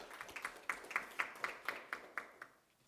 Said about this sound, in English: Maybe a big round of applause for all the people that work for us, for everybody.